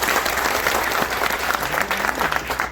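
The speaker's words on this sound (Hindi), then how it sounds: "एक बार जोरदार ताली से उनका स्वागत।" An audience at a political gathering in Bihar breaks into sustained clapping to welcome a speaker, a dense, even wash of applause from a nearby crowd throughout.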